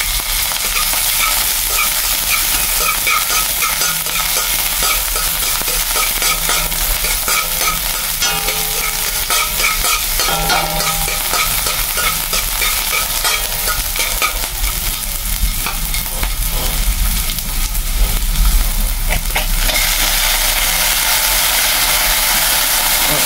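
Corned beef sautéing in a pan, a loud continuous sizzle with dense scraping and stirring clatter running the whole time, close up and unbroken, no speech.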